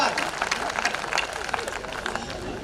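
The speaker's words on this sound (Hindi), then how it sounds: "ताली इस बात पर बजाना" An audience at a Hindi comedy poetry gathering breaks into loud, sustained applause, dense and crowd-wide, with murmuring voices mixed in.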